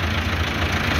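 A 2022 Massey Ferguson 385 tractor's diesel engine idles steadily nearby, a loud, even, low rumbling chug with no change in pace.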